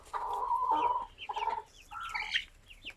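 Close chicken clucks and chirps in short bursts from ten chicks, several birds calling in quick, uneven succession.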